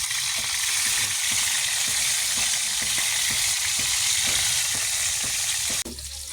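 Tilapia frying in a pan gives a steady, loud, close sizzle with broad hiss throughout and faint rhythmic crackles, then a brief drop near the end.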